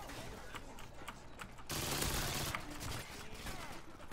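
Rapid gunfire from an online multiplayer video game fills the clip, a dense burst swelling loudly midway and then continuing at a lower level, mixed with faint background voices.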